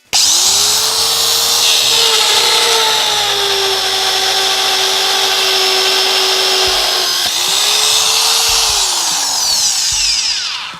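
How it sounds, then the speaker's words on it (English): A loud, steady whine of an MD-40 magnetic drill boring through metal, winding down briefly and then spinning up again, with a grinding, scraping edge. "That's what I expect out of a mag drill. The hole went through a lot quicker."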